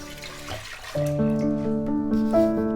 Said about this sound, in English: So I will add more water.